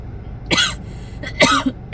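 A couple of sharp, close coughs, one after another with a short gap, followed by a brief third burst.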